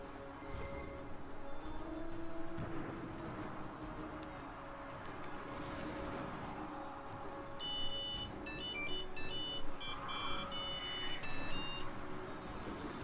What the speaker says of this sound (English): That was my notification from my phone.